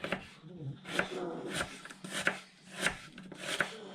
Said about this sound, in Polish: obieramy cebulę na pół i tniemy w piórka